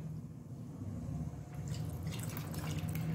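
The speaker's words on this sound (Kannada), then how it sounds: "ಪುನಃ ಸ್ವಲ್ಪ ಮಿಕ್ಸಿಗೆ ನೀರು ಹಾಕ್ಕೊಂಡು" Water is poured into a mixer jar, a steady close trickle and splash that grows fuller and brighter partway through, with no talking.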